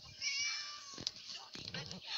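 A cat meows in a video game level about freeing a cat, giving a few short, tonal meows at close range, fairly soft and separated by brief gaps.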